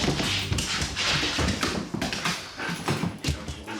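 A sniffer dog searching for drugs in a kitchen, reacting to a suspicious smell with busy snuffling, scratching and pawing noises and faint whimpers, close and continuous with no talk.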